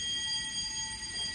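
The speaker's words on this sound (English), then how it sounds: "That's my fire alarm." A building fire alarm rings steadily and loudly in a Dubai building, a continuous shrill electronic bell tone that holds unbroken for the whole stretch with no voices.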